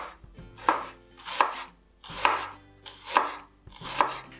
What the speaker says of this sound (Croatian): još samo narežemo luk, opet tako tanke, fine, male ploškice